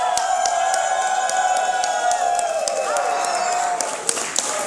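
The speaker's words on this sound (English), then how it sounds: "The crowd is chanting," A wrestling crowd at a Sabotage Wrestling show chants thank you to Kris Wolf, a loud sustained mass of voices with rhythmic claps and whoops punctuating the chant.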